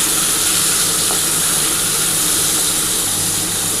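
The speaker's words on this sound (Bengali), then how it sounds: "এই তেলের মধ্যেই আমি প্রথমে কিন্তু শুকনো লঙ্কা একটা ফোড়ন দেবো, আর কালো জিরে ফোড়ন দেবো।" Dried red chilli and black cumin seeds spluttering in hot oil in a pan, a loud, even, hissing sizzle that holds steady throughout with no voices.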